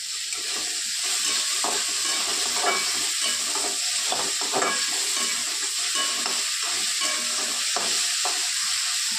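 Brinjal and potato pieces stir-fried in a pan for a dry vegetable dish, giving a steady close sizzle with repeated scraping and stirring clatter throughout, no voices.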